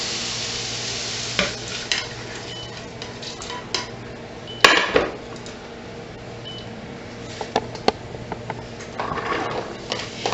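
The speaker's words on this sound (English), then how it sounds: "The carrots, we're going to just take and saute them just a second." Carrots sauteing in a pot for chicken soup, with a soft steady sizzle under scraping stirs and occasional sharp clinks of a utensil against the pot, close and continuous.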